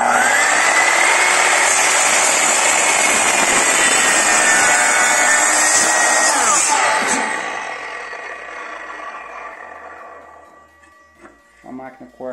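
A Stanley SM-18 telescopic miter saw screams at full speed through a larger wooden piece, loud and close, then its motor winds down over several seconds, leaving a few light knocks near the end.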